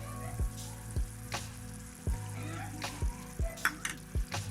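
Ghee goes into melted sugar in a pan over low heat for makhandi halwa, a faint bubbling sizzle under a steady rhythm of soft low thumps, with a few brief scrapes.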